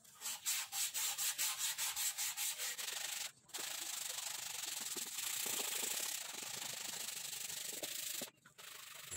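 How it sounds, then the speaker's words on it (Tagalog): Wet sanding of a plastic motorcycle cover with 120-grit sandpaper and water: rapid rhythmic back-and-forth scrubbing strokes up close, shifting into steady continuous rasping with two brief pauses. "sinimulan ko naman siyang i-wet sanding. Gamit ko yung 120 na liha at tubig."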